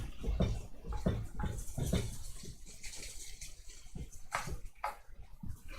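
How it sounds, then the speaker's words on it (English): Tomatoes smashed and broken down in a pot, giving wet squelching, mushy pressing and liquid churning, close up and continuous with uneven bursts and no talk. "you can see the tomatoes just kind of smash. And they just break up and get all that juice in here"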